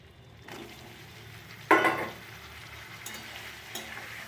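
Potatoes added to a pan of spiced masala and stirred, starting with a brief loud sizzle, then a quieter simmering fry with occasional scraping stirs.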